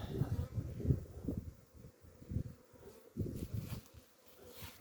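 Honeybees on their spring cleansing flight at an apiary buzz in low, wavering hums that swell and fade as individual bees pass close by, fairly faint overall, outdoors with no clear speech.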